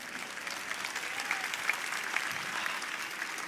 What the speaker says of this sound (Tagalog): palakpak pala yun, palakpak